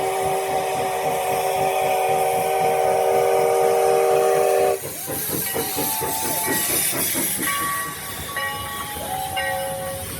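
The steam locomotive Sierra No. 3 at Railtown 1897 hisses and chuffs steadily nearby, with a sustained whistle blast at first, then rhythmic exhaust beats and short whistle toots.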